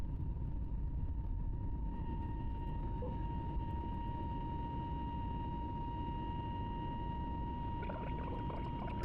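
A British Airways jet takes off from runway 27 left at London, heard from inside the cabin as a steady, loud engine roar with a constant whine on top, unbroken throughout.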